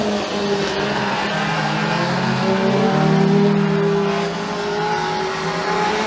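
Mini stock race cars at McKean County Raceway battle side by side off turn 2, their engines droning loud and continuous with a rising and falling pitch as they run close together.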